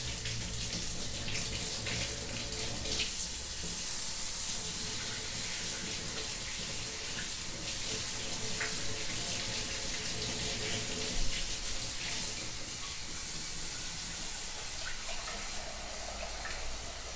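Warm water runs steadily from a kitchen tap for pizza dough yeast, a continuous close hiss and splash that goes on for the whole stretch with no talking.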